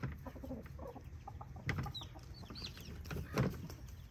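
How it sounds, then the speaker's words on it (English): Rhode Island Red chickens cluck softly and intermittently close by, with a few short higher calls over a low, steady background hum. "this is actually one of the runts from the Rhode Island Reds"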